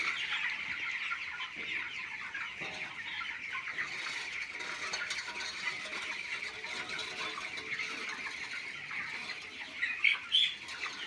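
Free-range chickens on a poultry farm cluck and squawk in a dense, continuous chorus, a flock heard at mid distance with a few louder close squawks and brief wing flaps near the end; no one speaks.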